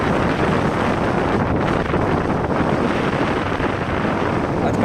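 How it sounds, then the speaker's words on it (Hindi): Loud wind buffets the microphone on a road ride on a Bajaj Pulsar 150 motorcycle, a constant roaring rumble, steady and close, drowning out other sound. "हवा बहुत चल रही थी"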